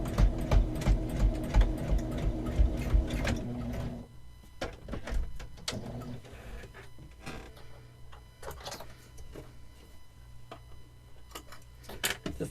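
A sewing machine stitches down the pinched corners of a fabric storage box with variegated thread, running in a steady loud burst for about four seconds, then stopping; afterward only faint handling clicks and taps of the fabric remain.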